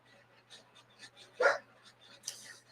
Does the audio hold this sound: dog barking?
yes